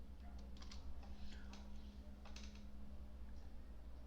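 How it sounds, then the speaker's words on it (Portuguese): Quiet clicks on a computer keyboard, a handful of light key taps in short bursts against a low electrical hum, faint and close. "eu venho aqui e aperto Enter"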